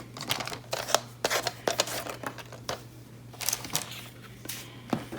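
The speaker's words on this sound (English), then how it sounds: "And my scissors. And then all you do is cut the edge off." Scissors snip along the edge of paper while crafting pocket tags, giving a series of short, crisp, irregular cuts at close range with quiet pauses between them.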